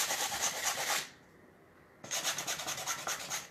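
A shelf surface is scuffed by hand for a 3-tier shelf build, giving steady close rasping strokes that stop for about a second, then resume in a quick rhythmic back-and-forth.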